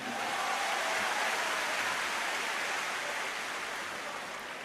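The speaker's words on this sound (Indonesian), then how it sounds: "Tepuk tangan untuk semuanya." Steady, dense applause from a large crowd of new university students at a campus orientation event, a broad wash of clapping that holds evenly and eases slightly toward the end.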